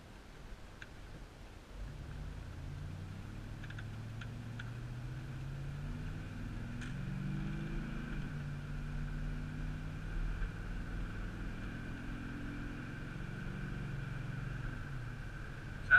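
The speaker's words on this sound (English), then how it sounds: "Sounds very good at wide open throttle." A 1999 GMC Yukon SLT engine pulling at wide open throttle on an access road, a steady low rumble with rising and shifting tones, heard from inside the cabin at moderate level.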